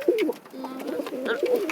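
Pigeons coo in soft, repeated warbling phrases, close by, with a little background noise between calls.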